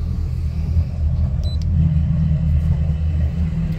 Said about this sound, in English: Let's turn the sport exhaust on.